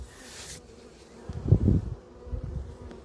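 Honey bees buzz at an open hive during a summer colony inspection, a faint hum swelling into louder close passes near the middle and again toward the end, with no speech.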